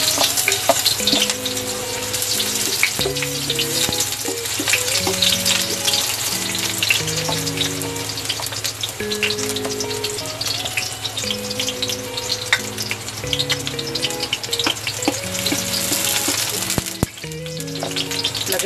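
Steady, loud sizzling of onions frying in hot oil, with occasional stirring clatter and a faint musical background throughout.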